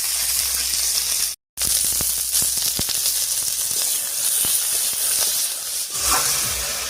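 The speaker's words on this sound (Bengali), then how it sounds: "বিনসটা হালকা করে ভেজে নিয়েছি, এবারে নামিয়ে নিচ্ছি।" Green beans fry in oil in a pan with a loud, steady sizzle and hiss, dotted with crackling pops. It runs continuously apart from a brief cut near the start, with no talking.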